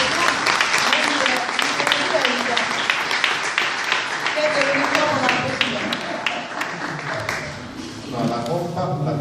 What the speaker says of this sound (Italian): Vorrei un applauso